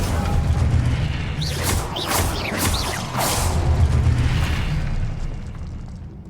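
Fiery spell blasts from the Confringo fire-blast spell in Hogwarts Legacy, several whooshing booms bursting in quick succession over a steady low rumble of game ambience, loud and close.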